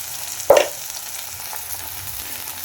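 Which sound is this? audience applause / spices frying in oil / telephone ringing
spices frying in oil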